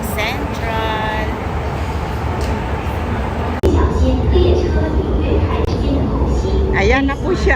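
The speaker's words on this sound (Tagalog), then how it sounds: "Dumating na po yung pangalawang train." A train pulls into a station platform in Hong Kong, a steady loud rumble and hiss of the arriving cars filling the space while people talk over it nearby.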